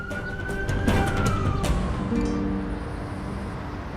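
Police and ambulance sirens wail as they approach, a rising and falling siren tone sweeping over a dense background of street noise, loud and steady throughout with no speech.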